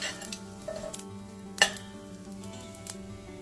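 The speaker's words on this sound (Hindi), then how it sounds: "अब पैन में ऑयल गरम हो गया है तो मैं इन सारे मसालों को इसमें डाल दूंगी और धीरे धीरे मिक्स करूंगी" Spices fry quietly in hot oil in a pan, a faint sizzle running underneath while a spoon stirs them, with one sharp metallic clink against the pan midway.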